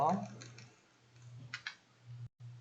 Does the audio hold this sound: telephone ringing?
no